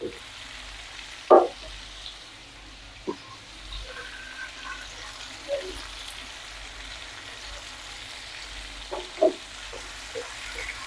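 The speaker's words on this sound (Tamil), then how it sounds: "நல்லா தக்காளி வதங்கட்டுங்க அப்புறம் பார்க்கலாம் ரெண்டு நிமிஷம் கழித்து எப்படி வதங்கி இருக்குதுன்னு பார்க்கலாங்க" Tomatoes sauté in a pan with salt for tomato kuzhambu, giving a low, steady sizzle broken by a few sharp utensil clinks and knocks. No one speaks.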